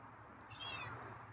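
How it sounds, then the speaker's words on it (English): One soft, thin meow from a feral cat rising briefly over steady low background noise, fairly quiet and close. "And that's a meow."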